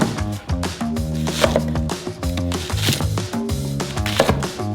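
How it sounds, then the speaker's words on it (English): Steady, rhythmic chops of a knife cutting garlic bulbs in half ring out against a board, layered with musical tones in the background. "Cut the bulbs in half."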